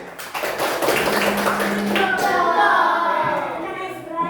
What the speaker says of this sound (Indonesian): Beri tepuk tangan dulu. Beri tepuk tangannya gini.